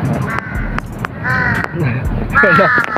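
Several crows caw loudly nearby in Lumpini Park, Bangkok, harsh repeated calls standing out over outdoor background noise and some voices.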